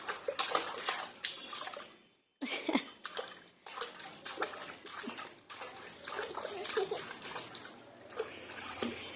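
Splashing in bath water at home, an uneven stream of slaps and sloshes with drips, close and continuous with a brief pause, while faint voices are heard in the background.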